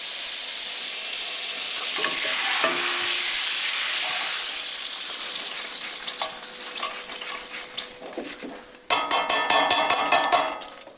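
Butter browning in a hot pan sizzles and hisses steadily and fairly loud, easing off midway, then a sharp burst of spattering frying with clinking near the end as lemon juice goes in.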